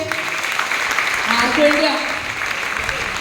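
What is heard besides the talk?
audience applause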